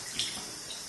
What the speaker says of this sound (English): now my face is ready to be rinsed